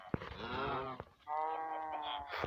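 A cow in a video game moos twice in close succession, each call a loud, drawn-out, tonal bellow of about a second, with no talking.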